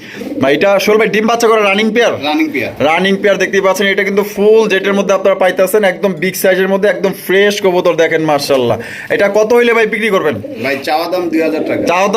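A male pigeon coos repeatedly in rolling, throaty phrases, close and loud, with only brief pauses between calls.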